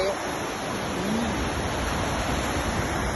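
A waterfall pouring down from a mountain makes a steady, broad rushing roar that fills the clip evenly, with no breaks and no clear talk.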